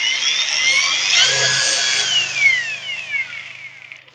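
An Ingco battery-powered angle grinder whines at high pitch, its tone sweeping up and down as it runs for a few seconds, fairly close and without speech.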